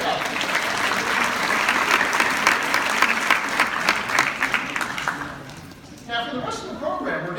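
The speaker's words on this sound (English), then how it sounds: "Give her a big round of applause." Loud, sustained applause from an audience, dense clapping that fades out toward the end, followed by a few scattered sounds.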